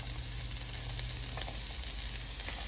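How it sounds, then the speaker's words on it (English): Nori sheet, red peppers and celery sautéing in a pan, a steady quiet sizzle with faint crackles running evenly throughout, no voices. "we're gonna saute this for 10 minutes"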